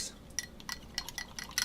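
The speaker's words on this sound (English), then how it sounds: "stir it around" A spoon stirs cornstarch and water in a glass, making a quick run of light, irregular clinks against the glass, with no talking.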